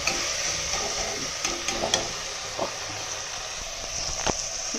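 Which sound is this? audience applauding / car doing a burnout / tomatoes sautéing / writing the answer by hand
tomatoes sautéing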